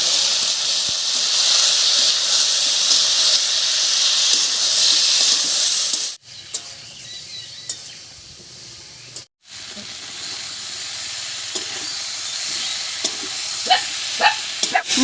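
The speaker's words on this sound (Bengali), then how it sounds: "মশলা দিয়ে খুব ভালো করে কষিয়ে নিয়েছি" Spice paste of dried chili, onion and masala ground with water sizzles loudly in a pan with cauliflower and potato for several seconds, then drops to a quieter hiss with scattered stirring clicks and scrapes.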